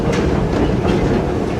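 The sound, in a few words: historic tour train running on tracks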